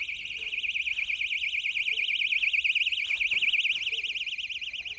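A homemade anti-theft alarm for travel baggage shrieks continuously, a loud, piercing, rapidly warbling siren tone that holds steady without pause; a few faint background sounds sit beneath it.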